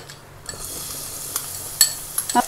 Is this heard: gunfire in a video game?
no